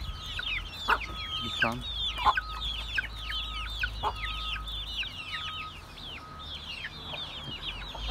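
Crossbred village hens and a hin rooster cluck and chatter steadily at close range, with sharp repeated calls over a busy flock murmur and a brief voice in the background.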